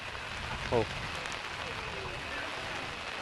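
Heavy rain falling near Abbi Falls in Madikeri, a steady, fairly soft hiss that runs throughout, with a brief tonal chirp or voice-like sound near the start.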